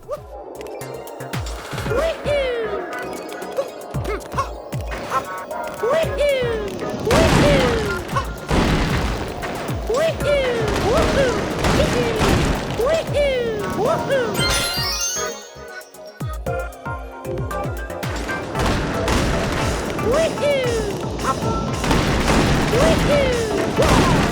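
Bullet Bills blast and explode in the video game Super Mario Odyssey, with repeated loud booms and crashing bursts over game music and whooshing effects, the explosions coming in quick clusters across the stretch.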